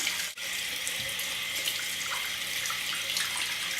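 Tap water runs steadily into a sink while a makeup brush is rinsed under it, a close, continuous hissing splash with no talking.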